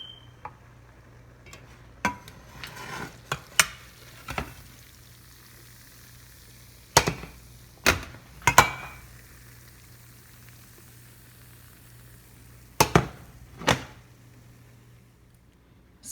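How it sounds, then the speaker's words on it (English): Cooked macaroni tipped into a baking pan, heard as a handful of sharp, close knocks and scraping clatters in irregular bursts over a quiet kitchen background, with no talking. "I've poured the cooked macaroni in the pan"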